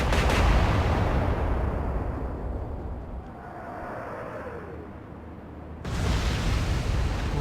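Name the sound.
naval guns firing a staggered shot in the video game Atlantic Fleet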